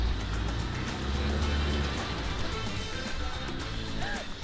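A Corvette C4 creeps up the ramps onto a trailer, its engine rumbling low and steady with a brief heavier surge near the start, fairly close, with no one speaking over it.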